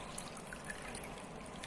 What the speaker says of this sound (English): if I take this jar and I will pour this water in this jar